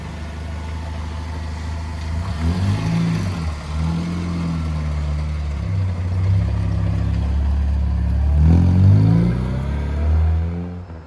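A tuned Mini engine idling and then revving as the car drives off, a steady mid-pitched hum with several rises in pitch and a louder surge near the end, no talking.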